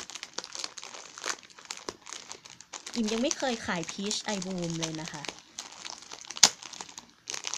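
Paper packaging around a squishy peach toy crinkles and tears in short bursts as it is unwrapped up close, while someone talks over the rustling.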